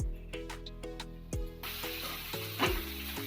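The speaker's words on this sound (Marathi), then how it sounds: "तुपामध्ये आता आपला किस फ्राय झालाय थोडासा दोन मिनटं फ्राय केला" Grated raw mango fries in ghee with a soft, steady sizzle, while several stirring or scraping clinks land at intervals over low background hum.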